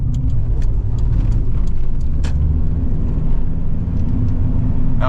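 A 1996 Toyota Land Cruiser Prado diesel accelerates with the pedal floored, a loud, steady engine drone and low rumble heard from inside the cabin, with no talking.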